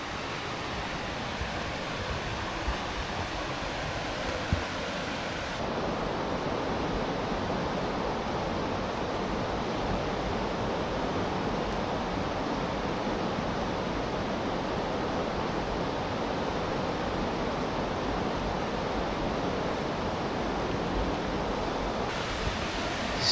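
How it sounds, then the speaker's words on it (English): A river rages through a forest beside a woodland walking path, producing a constant, loud, broadband rush of water that fills the whole scene without pause and carries no speech. "See the river raging through there now."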